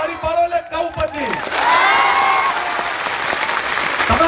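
A crowd at a Thakor community rally in Dedyathara village, Saraswati taluka, Patan, breaks into loud, sustained applause right after a brief spoken line, the clapping continuing as a dense wash to the end.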